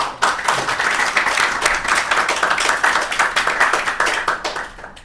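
An audience at an art and science evening event claps in a dense, steady burst of applause that carries on for several seconds before tapering off.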